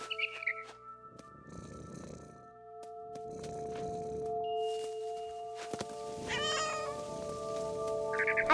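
A cat meows several times in the video game What Remains of Edith Finch, breathy purring bursts and a rising meow over a steady musical drone, with brief high bird chirps near the start and end.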